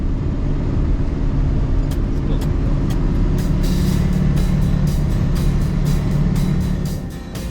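A truck hauling a sailboat from Mexico drives along the road, a loud continuous engine rumble and road noise with a series of short rattling ticks in the latter half, easing slightly at the end.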